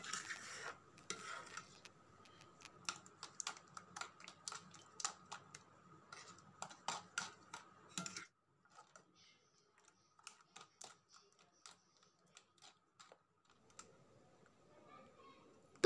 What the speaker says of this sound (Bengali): এই মিশ্রণটাকে একটু ভালো করে বিট করে নিতে হবে ফেটে নিব আমি একটা চামচের সাহায্যে